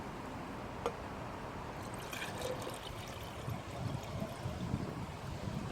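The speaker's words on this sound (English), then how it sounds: "I'm gonna pour some in the glass and taste some" Beer poured into a glass, a close continuous trickle and splash of liquid lasting several seconds with small drips.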